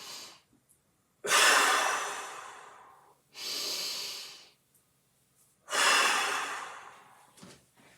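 Deep breathing during a mobility workout, with three strong, airy breaths in a slow rhythm separated by quiet gaps, close and fairly loud.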